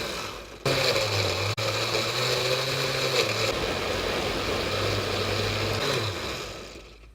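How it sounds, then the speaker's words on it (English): A blender whirs steadily as it purees chili ingredients for a lean beanless turkey artichoke chili, starting with a pulse, then running continuously at close range with a brief pitch change before winding down, with no talking. "That's really satisfying watching it blend"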